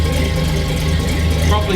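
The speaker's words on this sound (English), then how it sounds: "Sitting here idling about 850. You can hear it's got a little lope" A 1966 Chevrolet Impala V8 with a junkyard cam idles at about 850 rpm after sitting for years, giving a close, steady low rumble with a slight lope while someone talks over it.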